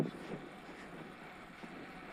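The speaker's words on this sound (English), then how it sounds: "So windy. Back into the headwind again." Gusty headwind buffets the microphone in a low, blustery rush while cycling the Horseshoe Pass loop from Llangollen, with a brief stronger gust at the start.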